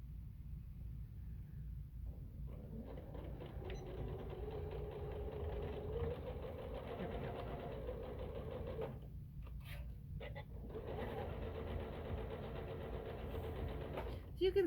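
A home sewing machine stitches a seam in long, steady runs of close mechanical whirring, pausing briefly partway through, with a faint voice speaking under the motor hum.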